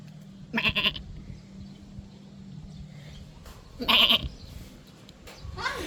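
A person imitates a goat, letting out two loud, wavering bleats about three seconds apart, then a fainter bleat-like call at the end, over quiet outdoor street background.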